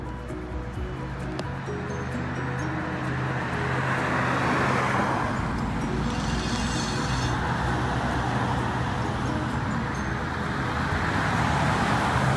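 Traffic on a town road lined with town homes gives a steady roar of passing cars that swells slightly midway, continuous and fairly loud, with no clear talk.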